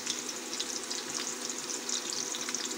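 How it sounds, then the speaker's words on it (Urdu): Onions sizzle and crackle in hot oil in a pan for a Pakistani aloo matar sabzi, a steady dense frying hiss close up with no talk. "آئل ہو گیا اچھی طرح گرم ابھی اس میں پیاز ڈالیں گے"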